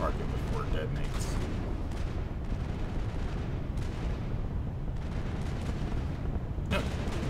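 An explosion in the video game Mass Effect: a dense, continuous rumble of booming blasts and gunfire fills the whole stretch, with a few sharper cracks rising out of it.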